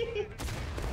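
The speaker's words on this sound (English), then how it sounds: "Nice arty shot." Artillery cannon firing in the Civil War era game War of Brothers, a sharp blast with a rumbling tail, close and loud over faint background game noise.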